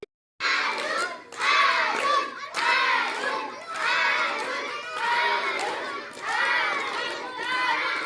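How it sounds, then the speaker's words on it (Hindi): A class of young children clapping for a classmate, several loud bursts of applause separated by short gaps, with children's voices and shouts mixed in. "एक बार और ताली बजाओ उसके लिए।"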